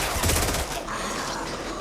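Gunfire in a scene from the Korean zombie series All of Us Are Dead: a rapid burst of shots lasting under a second, then a steady noisy wash of sound.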